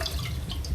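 A glass of water is poured into simmering fish gravy masala in a home kitchen, making a steady, close splashing and trickling with no voices.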